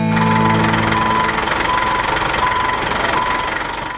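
A vehicle engine pulls a boat trailer forward, running in a steady, loud drone with a low, even hum throughout and a slight easing toward the end.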